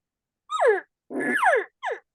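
A voice imitates elk cow calls with the lips, giving three close, loud descending whines, the middle one longest and raspiest, separated by brief silences.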